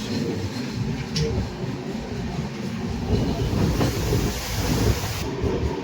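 Howrah–New Jalpaiguri Shatabdi Express crossing the Farakka Barrage, a steady loud rumble of wheels and carriages with a broad hiss, continuous and close throughout with no talk.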